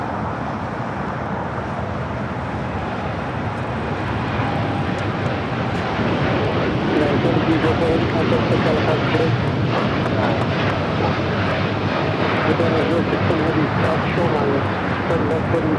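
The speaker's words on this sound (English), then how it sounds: "This is United Airlines 1704 taking off to Newark on a 787-9 Dreamliner" A United Airlines Boeing 787-9 Dreamliner takes off at LAX, its engines a broad, steady roar that swells gradually across the clip, with voices talking over it.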